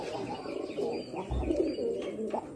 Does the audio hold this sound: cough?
no